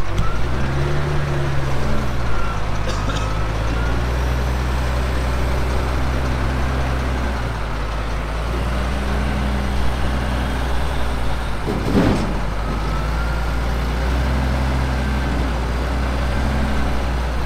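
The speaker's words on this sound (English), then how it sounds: "That there is our old Volvo, and now it's getting loaded up with our awesome quality topsoil" An old Volvo truck pulling a new quad-axle live bottom trailer runs with a deep, steady diesel rumble while topsoil is loaded, with a brief sharp burst of noise midway through.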